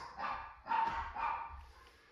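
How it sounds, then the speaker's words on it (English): Dogs barking indoors at home, three loud close bursts of barking in quick succession, then quieting, with no talk over them. "Cue the dogs."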